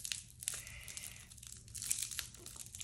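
A package being torn open by hand, crinkling and ripping in a few short bursts with quiet rustles between, heard close and with no talking.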